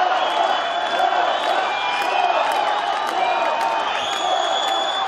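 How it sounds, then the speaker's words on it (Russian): A large crowd of fans at a world championship fight for the Kyrgyz fighter Alexei Fedoseev, roaring and cheering continuously with whistles and whoops, a sustained loud wall of arena noise. "А в это время болельщики, не переставая, скандировали «Леша, давай!»."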